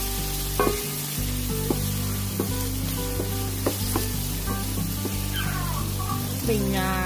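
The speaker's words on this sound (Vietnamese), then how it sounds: "Mình xào sơ với cà chua lên như thế này." Tomatoes stir-fry with lemongrass, shallots and garlic in a hot pan, a steady sizzle with scraping and clinking from stirring, while a voice speaks faintly underneath.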